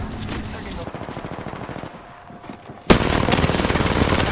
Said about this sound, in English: I'm shooting him through the window.